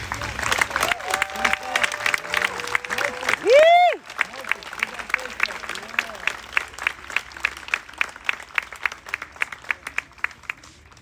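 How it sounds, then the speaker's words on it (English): A crowd at a Black Lives Matter gathering in Springfield, Oregon claps in steady, rhythmic applause with voices and a brief whoop early on, the clapping continuing evenly to the end. "Let's get one more round of applause"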